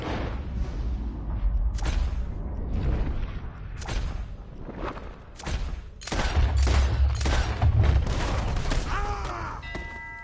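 Gunshots ring out in the Red Dead Redemption II western game, several loud sharp cracks and booms scattered irregularly over a rumbling background, with a faint voice briefly audible.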